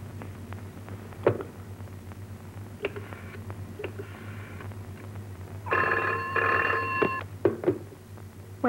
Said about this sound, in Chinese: 请吴玲玲小姐听电话好吗？